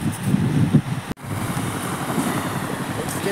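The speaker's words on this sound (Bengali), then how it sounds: "ঢেউ আসছে ঢেউ আসছে ঢেউ আসছে।" Sea waves roll and break on the beach at Digha, a steady broadband wash mixed with gusty wind buffeting the microphone, with one brief dropout early on.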